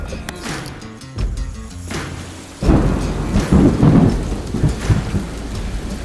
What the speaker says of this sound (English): we're in the car waiting out the rain